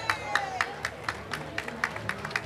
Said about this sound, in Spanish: también un fuerte aplauso a ellos